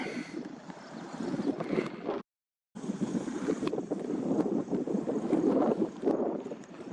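Wind buffets outdoors in the Turtle Mountains of North Dakota, a rough, gusty rumble battering the microphone, steady and loud apart from a brief cut-out, no voices.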